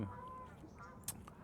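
Geese honking faintly in the distance as they fly over an outdoor spot, a few brief calls above steady background noise, with a soft bright burst near the end.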